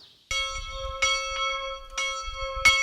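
A bell at the Cerisy manor rings to announce breakfast, four clear, resonant strikes at a slow, even pace, each one ringing on with a long sustained tone and no voices.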